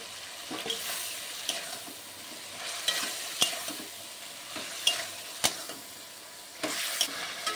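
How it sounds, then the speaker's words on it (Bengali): Meat being stir-fried with spices in a pan, worked hard with a spatula: a continuous sizzle broken by repeated sharp scrapes and knocks against the pan at irregular intervals, close and moderately loud. "এরপর আমি মাংসগুলো দিয়ে দিচ্ছি, দিয়ে আমি ভালো করে কষিয়ে নেব।"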